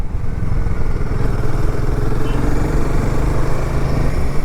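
A motorcycle on a mountain ride in the Himalayas runs at a steady, loud drone, its engine note holding even throughout with a low rumble and no speech.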